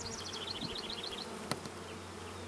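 Honey bees buzz in an open beehive, a steady dense hum heard close up, with a single sharp click partway through.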